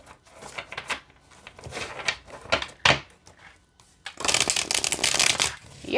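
A deck of Avisomnia tarot cards is shuffled by hand, with bursts of riffling and soft slaps of flexible cardstock, close and clear, ending in a longer dense riffle.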